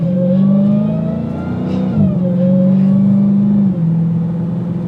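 A 2022 Dodge Challenger SRT Hellcat engine revs loudly and close by, a sustained droning rev that dips briefly near the middle before climbing and holding again, with no talking.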